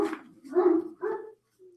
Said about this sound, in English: And the damn dog's barking like crazy.